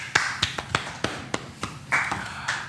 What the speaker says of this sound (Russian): Аплодисменты вялые